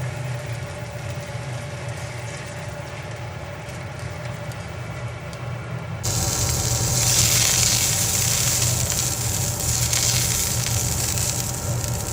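Steady hiss of food sizzling in hot olive oil, growing louder and brighter halfway through as more crackle joins, with no talking.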